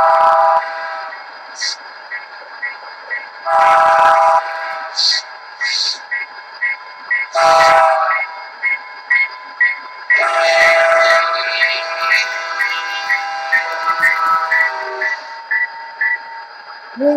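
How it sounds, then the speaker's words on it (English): Horn blasts from a Rapido F40PH-2D model locomotive's sound system, a slow Doppler effect: several short harmonic horn bursts, then a long sustained blast, over a steady ticking mechanical rhythm. The sound is fairly loud and close. "F3 is the slow Doppler horn"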